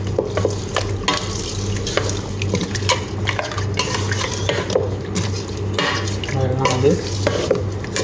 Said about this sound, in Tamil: தேவையான அளவு ஆயில் ஊற்றி எல்லாத்தையும் ஒன்றா மிக்ஸ் பண்ணிடணும்